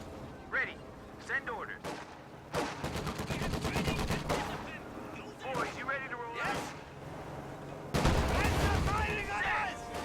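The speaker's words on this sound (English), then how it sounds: "AT gun takes a shot at the M20 as it's trying to make a flanking maneuver against the sniper right there" An anti-tank gun fires on an M20 armored car in a World War II strategy game, sharp gunshots and bursts of fire ringing out amid ongoing battle noise, with a commentator speaking over it.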